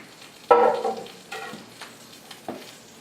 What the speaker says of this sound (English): So we're going to let this saute for just a couple of seconds to let the oil kind of coat the kale